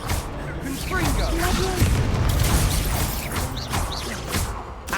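A Confringo blasting spell explodes during Hogwarts Legacy combat, a dense, loud roar of booms and crashing debris that holds steady over several seconds while a voice speaks.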